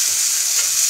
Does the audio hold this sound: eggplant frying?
yes